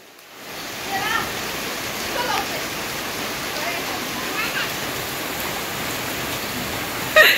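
Rain falls in a steady, even wash of noise that swells in after a quiet start and holds throughout, with faint voices under it.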